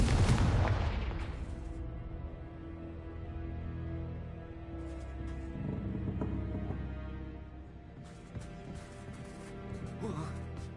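A Confringo blasting spell detonates in Hogwarts Legacy with a loud opening boom, and a low rumbling, crackling blast decays across the following seconds while further fainter pops and game sounds continue underneath.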